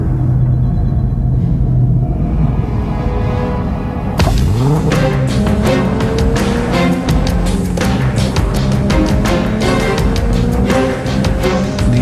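A 300-horsepower Lexus GS engine rumbles at idle, then surges loudly into a rising, revving acceleration with quick gear changes, close and forceful.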